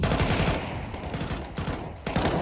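Rapid automatic gunfire bursts in a Counter-Strike 2 match at the Major Copenhagen 2024 tournament, loud and close, with a short pause before firing resumes and no voice over it.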